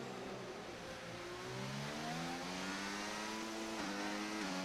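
A car engine in a racing video game revs upward through a gear, with the pitch climbing steadily, dipping at a late shift near the end, then climbing again. It sounds fairly faint and continuous.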